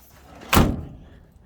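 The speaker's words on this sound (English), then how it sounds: "Doors all shut nice." A door on a 1948 Chevrolet Fleetline two-door sedan swings shut with one solid, close slam, followed by a short fading rumble in a quiet space.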